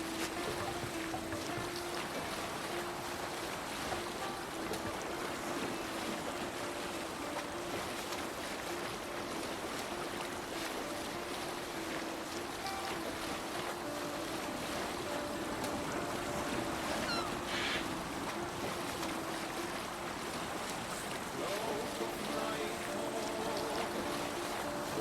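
A Viking-era sailing ship cutting across open sea in Assassin's Creed Valhalla, with a continuous wash of waves and wind rushing over the hull and a faint low drone, and no one speaking.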